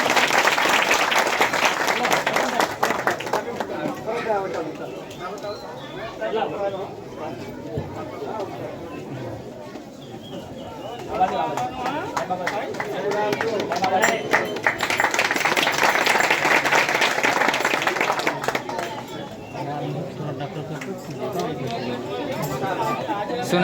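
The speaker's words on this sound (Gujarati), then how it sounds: "જોરદાર તાળીઓના ગડગડાટથી વધાવીશું" Applause at a primary school program, rising and falling in waves of loose clapping from a crowd of children and adults, mixed with chatter and voices talking throughout, swelling louder in the second half.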